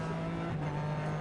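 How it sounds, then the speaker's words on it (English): GT3 race cars at Zolder circuit roar past together in a dense, sustained engine drone, loud and close, with no speech in the moment. "As Makovic gone through, the Ford's gone through in second place, and everyone else battling for third."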